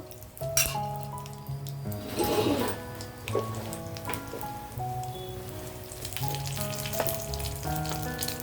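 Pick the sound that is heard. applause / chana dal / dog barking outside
chana dal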